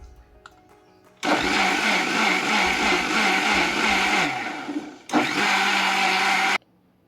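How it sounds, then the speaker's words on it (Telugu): A mixer grinder whirs loudly as it blends an avocado banana smoothie with milk, stops briefly, then runs again for a second burst before switching off. "ఒకసారి మళ్ళీ మిక్సీ పట్టేసుకుందాం"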